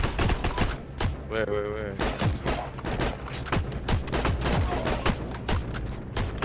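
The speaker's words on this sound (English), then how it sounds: "They got a machine gunner, boy." Rapid machine gun fire rattles in a video game battle, a dense string of sharp, loud bursts with brief pauses, while a player's voice cuts in over the shooting.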